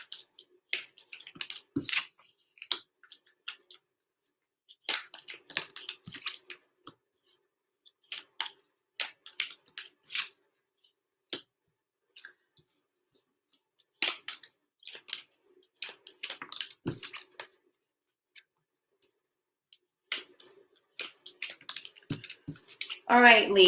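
Tarot cards are shuffled and pulled in quick, crisp flicks and snaps, coming in irregular bursts with short quiet gaps, close and fairly faint.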